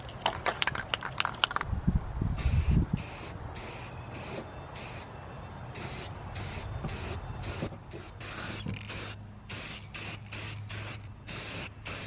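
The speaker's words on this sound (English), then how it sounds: "I'm leaving in these spray painting clips for the people that love to watch spray painting." Repeated short hissing bursts of a spray can, some in quick succession and then longer sprays with pauses between, close by and moderately loud.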